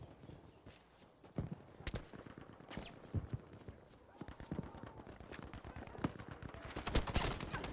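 Sniper rifle shots in Crysis 3, heard as several sharp, widely spaced cracks amid busy game noise, with a denser burst of gunfire near the end.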